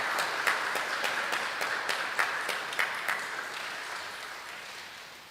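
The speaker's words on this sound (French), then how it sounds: "On les accueille par nos applaudissements" Steady applause from a congregation welcoming people during a Sunday Catholic mass in church, dense clapping with a few sharper claps that gradually thins and fades toward the end.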